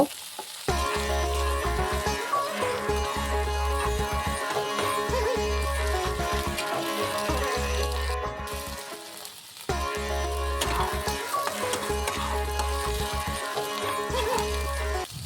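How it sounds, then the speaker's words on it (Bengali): Okra and potatoes fry together in oil in a pan over a medium-low gas flame, a continuous close sizzle with occasional stirring, pausing briefly before resuming. "এবারে ভেন্ডি আলু একসাথে 5 থেকে 6 মিনিট আবারও সময় ধরে গ্যাসের ফ্লেম মিডিয়াম টু লোতে রেখে ভেজে নেব।"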